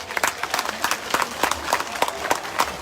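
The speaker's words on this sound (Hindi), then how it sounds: "जरा दोनों हाथ ऊपर करके तालियां बजाकर मुकुंदा का अभिनंदन करें" A crowd at a public rally in Raina, Purba Bardhaman, West Bengal claps with raised hands, sharp rhythmic bursts of applause repeating steadily, loud and close.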